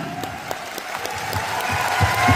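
Loud audience applause at a corporate event in India, a dense wash of clapping that swells steadily over a couple of seconds with scattered cheers mixed in.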